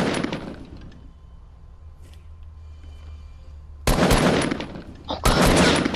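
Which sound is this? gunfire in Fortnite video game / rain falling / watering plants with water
gunfire in Fortnite video game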